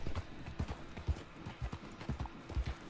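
Horse hooves clip-clopping in Red Dead Redemption 2, the horse winded after a hard ride: a steady, moderately loud rhythm of hoofbeats on ground, with no talk over it.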